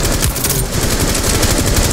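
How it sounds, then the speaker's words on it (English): Automatic gunfire in Rainbow Six Siege from a floor below, loud rapid bursts of shots in a steady rattling stream with no pauses. "They're shooting from below."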